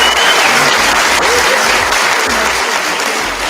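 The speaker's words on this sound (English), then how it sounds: "Give her a hand clap." Audience applause and hand clapping at a live ritual gathering, a dense steady wash of many hands clapping throughout, loud and close, with no talk over it.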